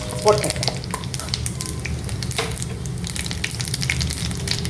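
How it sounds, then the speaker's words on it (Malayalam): Cumin seeds crackle and splutter in hot oil in a pan while cooking chicken keema, a steady close sizzle with scattered small pops and no talking. "അതിലേക്ക് ഞാൻ 1 ടീസ്പൂണ് ക്യുമിൻ സീഡ്, ജീരകം, അതൊന്ന് പൊട്ടട്ടെ."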